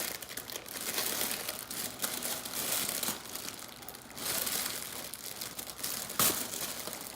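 A sealed shipping package holding a YSL envelope bag is torn and opened with crinkly paper and plastic rustling and tearing in uneven bursts, close and fairly quiet.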